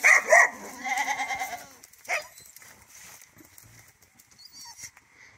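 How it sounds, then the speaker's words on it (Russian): Goats bleating on a Russian farm, a couple of loud, close calls at the start followed by a shorter one, then quiet rustling and faint background noise. "козы стадные животные"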